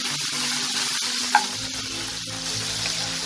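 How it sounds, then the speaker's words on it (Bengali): Headless, turmeric-coated prawns fry in a pan with a steady, close sizzle and soft bubbling, a brief clack of a utensil standing out midway. "এই চিংড়ি মাছগুলোকে আমি ভেজে নেব।"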